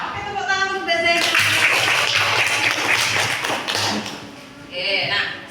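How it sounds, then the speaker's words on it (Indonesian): Classroom applause for a student: a burst of many hands clapping for about three seconds, fading, then a brief second flurry, with a voice and a tonal sound at the start. "tepuk tangan untuk Mbak Zaid"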